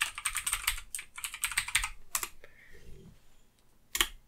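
A folder name is typed on a computer keyboard during Stream Deck setup, in quick bursts of close, crisp keystrokes, then a pause and one final sharp key press, with no talking.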